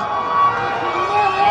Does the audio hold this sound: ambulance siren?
yes